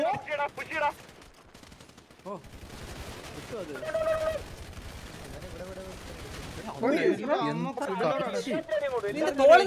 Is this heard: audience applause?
no